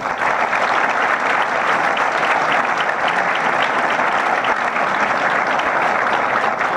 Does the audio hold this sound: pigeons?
no